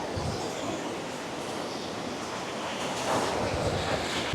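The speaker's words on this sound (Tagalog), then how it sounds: "Ayan, sobrang lakas ng alon." Strong ocean surf at high tide on a Boracay beach roars continuously with broadband wash, a wave surging louder near the end, mixed with gusty wind buffeting the microphone.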